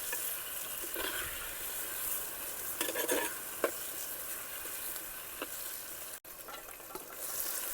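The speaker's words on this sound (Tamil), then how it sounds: "நல்லா மிக்ஸ் பண்ணணும்." An Indian mackerel brine mixture is stirred in a pan over heat in a traditional village kitchen, with a soft sizzle underneath and a few scraping strokes and light utensil taps.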